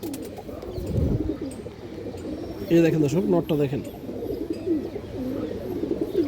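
Purebred bloodline Dobas pigeons coo softly in bursts close by, partly under someone talking.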